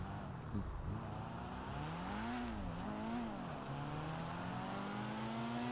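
A car engine in a video game hums and revs, its pitch rising and dipping as it drives, then climbs steadily as the car speeds past over a constant background of road noise.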